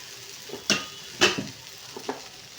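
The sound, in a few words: tempering spices frying in a pan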